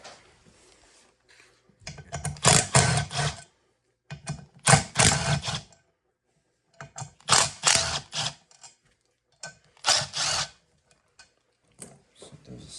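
A socket ratchet backs out 12-point bolts on a Ford 6.0 Powerstroke diesel engine during a DIY nine-blade turbo conversion, heard as repeated bursts of close, rapid clicking separated by brief pauses.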